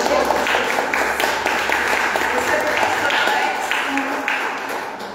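Church congregation applauding the Lord during a worship service, steady dense clapping filling the room throughout, with a voice speaking over it.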